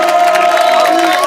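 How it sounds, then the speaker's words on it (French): A crowd of inmates, guards and neighborhood teams at a competition inside Fresnes prison roars with steady, dense cheering and shouting, loud and close, with no break across the moment. "Applaudissez-vous pour ça."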